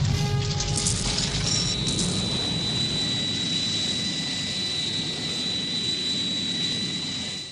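Jet aircraft engine from a Thunderbirds film, a loud steady roar with a high whine holding throughout, a brief crash-like burst near the start.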